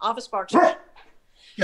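A dog barks in the background of a live Twitch talk show, giving a few sharp, close barks that break into and overlap the host's ongoing speech.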